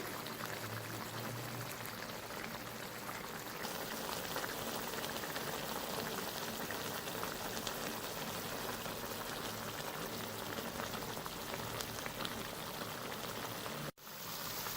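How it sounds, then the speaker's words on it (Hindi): Shinwari dumba karahi, mutton in a pot, simmers with a steady, soft bubbling hiss that holds evenly throughout before cutting out briefly near the end. "मज़ीद पकने देंगे इसको।"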